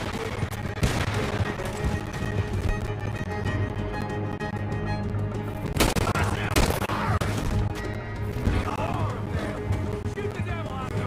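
A video game shootout with horseback characters: rapid bursts of gunfire crackle continuously over music, with loud volleys around the middle, while characters shout over the shooting.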